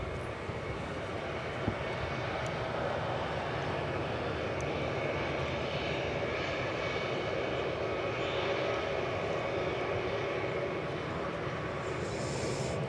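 Airliner jet engines roar on a runway at DFW airport, a loud, continuous, fairly close rumble that holds steady throughout with no voices.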